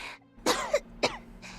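A female character in the video game AFK Journey coughs in a few harsh, throaty bursts with short pauses between them, close and clear, with no talking over them.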